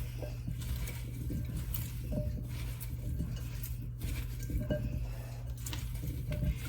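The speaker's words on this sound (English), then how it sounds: "And then we're just going to mix this up." Casserole ingredients with paprika are mixed in a bowl, with repeated soft scraping and clinking of a utensil against the dish over a low steady hum.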